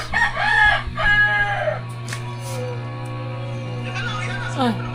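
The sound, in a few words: chickens and birds clucking and crowing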